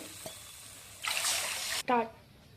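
Water pours into a pan for semolina upma in a short, steady splashing stream for under a second, followed by a person speaking.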